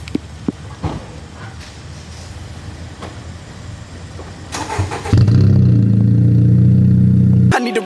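A car fires up by remote start on a setup meant to shoot exhaust flames, shifting from faint background noise to a loud, steady low rumble from the exhaust.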